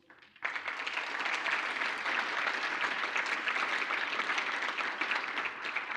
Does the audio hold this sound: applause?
yes